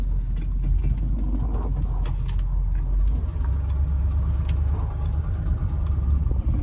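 A 1966 Ford Thunderbird idles steadily and close, its deep rumbling engine a low continuous drone with a slight shift in tone midway and no talking over it.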